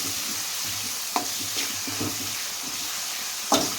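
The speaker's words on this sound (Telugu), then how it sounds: "వేసి ఈ మసాలా కూడా కొంచెం ఫ్రై అవ్వాలండి కొంచెం వేగాలి" Masala spices frying in a pan for cluster bean biryani, a soft steady sizzle with a few light scraping stirs and clinks of a spoon.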